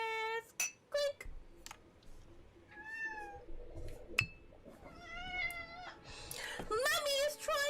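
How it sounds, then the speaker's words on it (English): A cat meows repeatedly in a series of drawn-out, rising and falling cries at close range, with light clinks of glassware or cutlery in between. "you're just sitting there meowing like you know what's going on"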